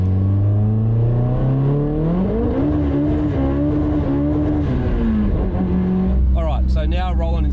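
A 1000HP Nissan R33 Skyline GTR rolls on in second gear, then accelerates; a loud, close engine note climbs steadily in pitch before settling, with a short burst of higher mechanical whine near the end.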